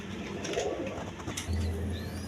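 Two healthy female pigeons give soft, low cooing close by, with a short throaty coo toward the end over quiet ambient noise.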